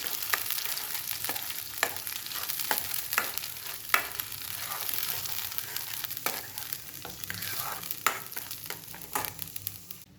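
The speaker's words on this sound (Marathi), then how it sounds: "व हे तेल सुटेपर्यंत आपल्याला हे परतवून घ्यायचं आहे चांगलं." Paneer masala stir-fried in oil in a pan for a hotel-style paneer dish, with a steady frying sizzle and regular scraping strokes of a spatula, close and moderately loud, no talking.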